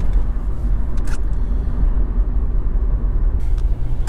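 A 1000cc, 75 PS VW Up hums and rumbles while driving, a steady low engine and road drone heard from inside the cabin with a few faint clicks, no talk.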